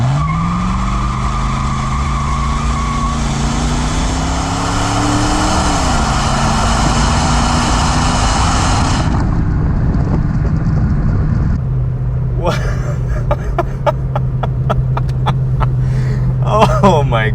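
A 1978 Avanti II accelerates hard with rising engine roar and shifting pitch, tires squealing and spinning, loud and close from inside the car, with a brief rattling change near the end.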